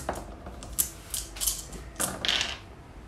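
Ten dice rolled onto a tabletop during a Dust 1947 wargame, several quick rattling clatters and clicks in bursts, close and fairly loud.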